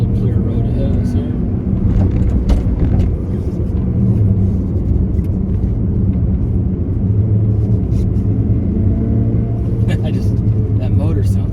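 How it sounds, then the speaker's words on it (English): A 1988 Nissan Pulsar NX SE five-speed hatchback's small engine drones steadily while driving on an open road, with a constant low rumble and road noise throughout the cabin. "That motor sounds fantastic"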